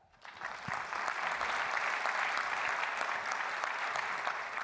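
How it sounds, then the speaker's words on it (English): An audience at a business plan competition applauds Brad, loud sustained clapping that swells in quickly and holds steady for several seconds, with no talking over it. "let's give a round of applause for Brad"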